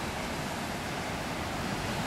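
Sea waves washing onto a beach at Bocas del Toro, Panama, a steady broadband surf wash filling the scene, with no distinct breaks and no voices.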